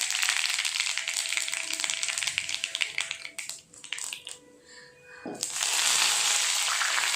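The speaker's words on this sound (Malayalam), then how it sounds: "ഇതിലേക്ക് കുറച്ച് കറിവേപ്പില ഇട്ട് കൊടുക്കാം" Curry leaves dropped into hot coconut oil with popped mustard seeds for cabbage thoran give a loud, dense sizzle that briefly dies down, then flares up again strongly.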